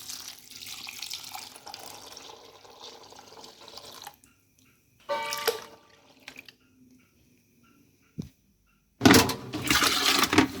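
Cold water runs from a tap onto soybeans set to soak for homemade tempeh, a steady splashing stream in bursts separated by quiet pauses, closing with a louder gush.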